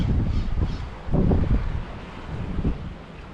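Strong gale wind buffeting the microphone outdoors on a stormy fishing trip, a low roaring rumble with gusty surges, heavy throughout the short stretch.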